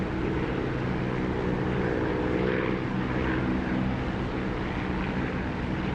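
An aircraft engine droning at low throttle in the DCS flight simulator, a steady propeller hum with faint tonal whine, moderately quiet and continuous, with no speech.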